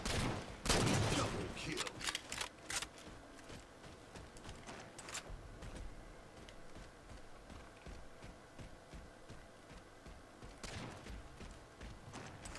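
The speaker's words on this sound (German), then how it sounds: "Ich höre überall Schüsse, aber irgendwie sehe ich keine Gegner." Rapid bursts of gunfire in the video game Halo 4, online multiplayer, early on, then scattered single shots and distant pops continuing under a steady background.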